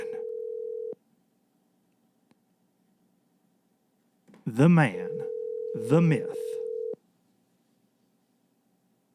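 A steady telephone ringback tone sounds in two long stretches separated by silence while a call is placed on a fishing show, someone talking over the second stretch.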